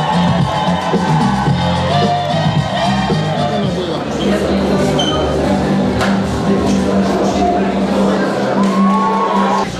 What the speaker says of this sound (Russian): Давайте еще раз проводим бурными аплодисментами отряд вожатых вместе.